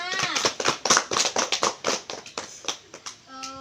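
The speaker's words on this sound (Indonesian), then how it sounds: "Tepuk tangan dulu dong buat kita semua." A classroom of students claps their hands together in a short burst of sharp, uneven claps, fairly faint, with voices mixed in and a brief tone at the end.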